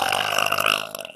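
A woman lets out one long, wet, sloppy burp, close and loud, fading out at the end.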